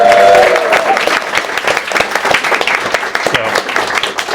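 Audience at a Gen Con convention panel applauding, a steady dense wash of clapping from a crowded room that carries loud and even for the whole stretch.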